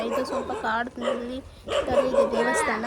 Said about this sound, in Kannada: ಬಟ್ ನಾಯಿ ಅಷ್ಟೇ ಬೊಗಳ್ತಾ ಇದೆ